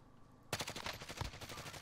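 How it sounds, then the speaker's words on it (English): Gunfire in the video game Warzone starts suddenly and keeps going as a dense burst of rapid, overlapping shots, loud and close, after a quiet moment. "More people shooting."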